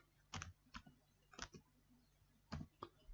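Quiet keystrokes on a computer keyboard in three short bursts of a few taps each, separated by brief pauses, close and isolated against a low background hum.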